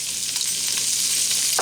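Chopped onion hitting hot bacon fat in a pan, giving a steady close hiss of frying with a brief louder crackle right at the end as the onion goes in.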